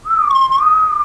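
A whistled two-note minor third tune from The Hunger Games, a single clear, sustained pitched whistle sliding slightly down then up, close and alone.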